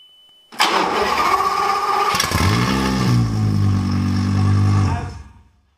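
A Lamborghini Gallardo LP520 V10 engine cranks and fires up with a loud roar, then settles into a rumbling idle before cutting off, close by, during restoration of a burnt-out car with wrongly routed exhaust piping.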